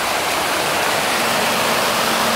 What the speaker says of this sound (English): There's the excess water coming on down the river, and there's what's coming out of the turbine